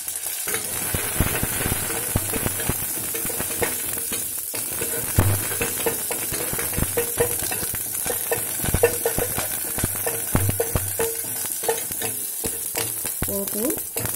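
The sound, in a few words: tempering spices (dried and green chilies, mustard, cumin) frying in ghee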